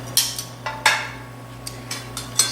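Roasted, spice-rubbed pork tenderloin being sliced on a board: a sparse run of sharp, close knife taps and clicks, about eight of them at uneven intervals, over a low steady hum, with no talking.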